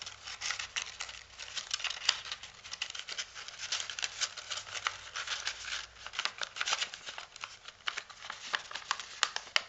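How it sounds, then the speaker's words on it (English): A sheet of paper is folded, tucked and worked into a triangular prism by hand. The rustling and crinkling is close and continuous, with dense small pats and scrapes and no speech. "And working the paper in."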